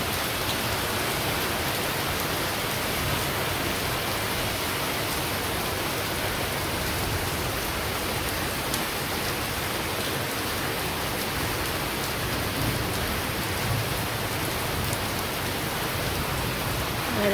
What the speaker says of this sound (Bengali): বৃষ্টিটা এত ঠান্ডা